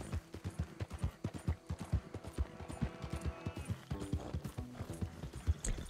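Horse hooves clip-clop in the video game Red Dead Online, a steady, quick rhythm of close hoof strikes on open ground with faint creaks of tack and no speech.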